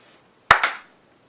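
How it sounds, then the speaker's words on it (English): Two sharp hand claps ring out in quick succession, close and crisp, in an otherwise quiet room. The second clap is slightly softer and trails off briefly. "No, that was a double clap."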